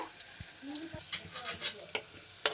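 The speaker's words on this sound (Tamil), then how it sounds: "முந்திரி பருப்பு போட்டு லைட்டாக கிண்டி விட்டுக்கோங்க." Cashews and onions fry in a pan, a soft sizzle broken by a handful of sharp scraping taps as a spoon lightly stirs them, close and fairly quiet.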